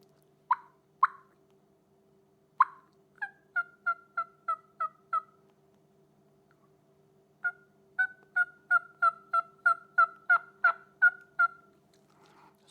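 A hunter's call imitates a hen turkey's tree yelp: two or three separate yelps, then two rapid runs of about seven to eleven evenly spaced, slightly higher-pitched yelps, close and clear over a quiet background.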